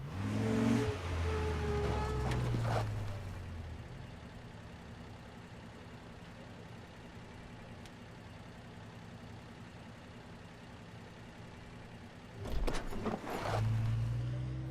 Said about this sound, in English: Max gets out of the truck and Chloe leaves without saying anything.